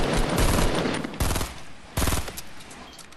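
Pistol gunfire in a Fortnite squads match: a few separate sharp shots ring out over a rushing, noisy game background, with some seconds of quieter gaps between them.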